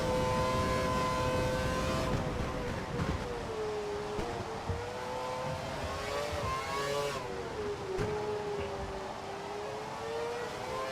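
Formula 1 car engine in the F1 2012 video game at Silverstone, a steady high-pitched whine rising and falling with gear changes throughout, loud and continuous with no talking.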